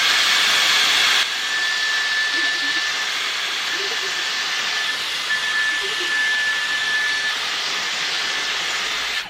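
A Dyson Airstrait hair straightener blows a strong, steady rush of air close by while drying hair, a continuous broadband whoosh with a thin whine that barely changes from start to finish.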